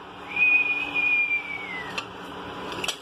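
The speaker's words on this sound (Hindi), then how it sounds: "देखो बड़ी सीटी लग गई" A pressure cooker whistle in a home kitchen gives one long, steady high-pitched tone that lasts about a second and then slides downward. It is moderately loud and heard alone, with a couple of faint clicks afterward.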